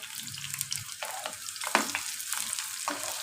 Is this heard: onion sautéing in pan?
yes